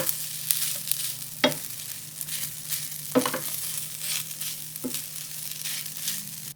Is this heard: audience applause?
no